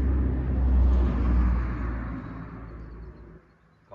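A car passes on a road near a rural property, a low rumbling engine swelling nearby and then fading away into quiet.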